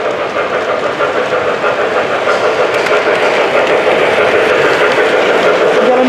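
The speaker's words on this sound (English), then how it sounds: "You got a train coming through there now. A little steam engine there." A small Lionel model steam locomotive runs along its track in a railroad museum display, giving a steady, close rumble and clatter that holds at an even level throughout with no talking.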